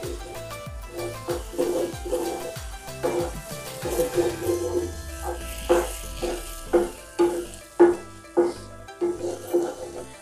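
Semolina upma with coriander leaves being stirred in a pan, a spoon scraping and clanking against the metal in a steady close rhythm over a faint cooking sizzle.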